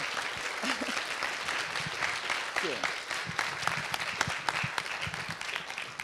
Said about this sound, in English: can we just give a round of applause to all the facilitators and all of you?